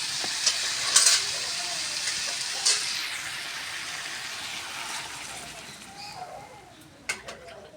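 Water goes into a hot pan of sizzling fried vegetables, a loud steady hiss and crackle with a few sharp spitting bursts near the start and again toward the end.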